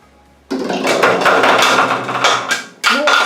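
A plastic toy bowling ball strikes plastic pins from a children's bowling set, giving a sudden loud clattering crash that rattles for about two seconds, followed by a second brief clatter.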